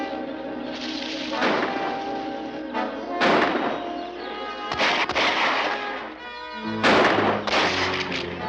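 Several loud gunshots ring out in a jungle in a 1955 adventure film, sharp cracks spaced a second or two apart over a rumbling background, each ending in a booming echo.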